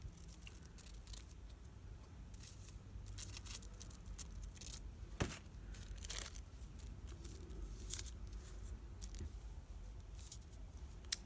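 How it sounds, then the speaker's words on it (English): Scissors snip a small piece of material for a decorative candle craft. The faint, close cuts and rustles sound quiet in a still room. "I'm going to cut just a little bit of this off."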